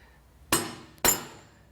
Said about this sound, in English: get yourself a nice handy dandy dead blow hammer with a soft head